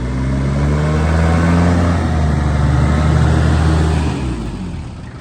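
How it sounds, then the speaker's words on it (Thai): A Nissan Frontier pickup truck engine revs hard with a throaty, rumbling exhaust, holding a loud roar for a few seconds before easing off. "นี่เสียง เสียงท่ออย่างซิ่ง"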